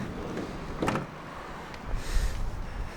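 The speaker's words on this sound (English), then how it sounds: "the passenger side slide loading door" The passenger-side sliding door of a 2019 Ford Transit Connect van slides open, with a short mechanical clunk of the latch followed by a rolling, scraping slide along its track, close and moderately loud.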